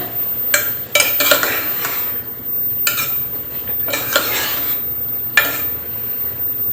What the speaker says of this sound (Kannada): ಈಗ ಇದನ್ನು ಒಂದು ಸತಿ ಚೆನ್ನಾಗಿ ಮಿಕ್ಸ್ ಮಾಡೋಣ